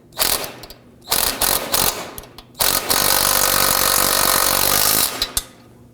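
A hand ratchet clicks in quick bursts while tightening the nut on a front sway bar link of a 2005-2009 Subaru Legacy, loud and close, with a long continuous run of rapid clicks after short starts and pauses.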